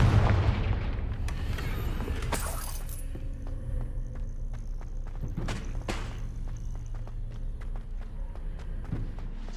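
A Confringo fire spell bursts in Hogwarts Legacy with a loud blast and crackle, then a second bright explosion follows, over a steady rumble of game ambience and footsteps.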